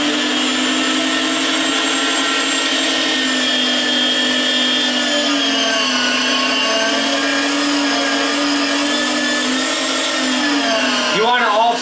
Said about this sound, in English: we are just going to grind up this a little bit